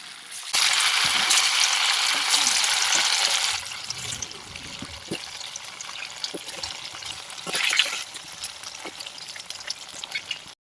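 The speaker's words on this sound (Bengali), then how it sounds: "সর্ষের তেলটা গরম হলে তাতে একে একে পনিরগুলো ছেড়ে ভালো করে ভেজে নেব।" Paneer pieces frying in hot mustard oil in a kadai (wok), giving a loud hissing sizzle at first that settles into softer crackling and spitting pops, with no talk.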